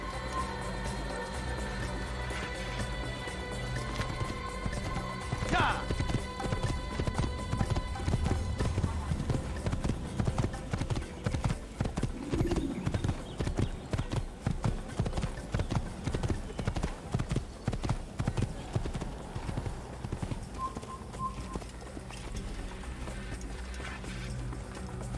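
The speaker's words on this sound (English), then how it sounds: "You can even stealth on the horse. If you kind of like hold A, gonna make like a really slow walk" Horse hooves clop at a slow, steady walk in Assassin's Creed, a regular close rhythm that runs through most of the stretch beneath a voice and game ambience.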